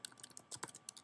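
Quick, light typing on a computer keyboard, a run of crisp irregular key clicks captured close but at low volume, with no voices.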